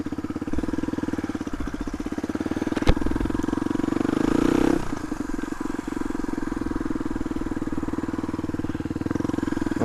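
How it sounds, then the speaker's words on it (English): A Suzuki DR250S dirt bike with a Dominator R exhaust and no baffle idles loudly with a rapid, harsh thumping beat, then revs up briefly in a sharp roar before settling back to a steady idle. "Oh, it's too loud, that exhaust, people, it really is too loud."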